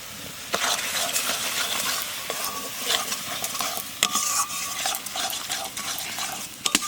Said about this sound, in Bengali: মশলা কষানো হয়ে গেছে